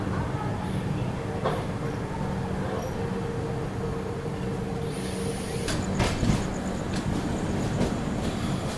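The Tamil Nadu Superfast Express, train 12621, pulls out of Vijayawada Junction, heard from inside a 2AC coach as a steady loud rumble with rattles and clicks building near the end, under a low background murmur.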